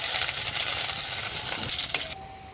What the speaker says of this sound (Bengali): দিয়ে দিচ্ছি সরিষার তেল কিছু গোটা জিরে আর শুকনো লঙ্কা ফোড়নে দিয়ে দিলাম একটু আদা কুচি দিয়ে দিচ্ছি